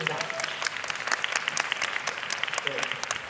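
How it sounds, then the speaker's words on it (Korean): Dense audience applause at a film screening Q&A, steady and sustained throughout with a continuous wash of many hands clapping. "우리 배우님께 박수 한번 부탁드리겠습니다."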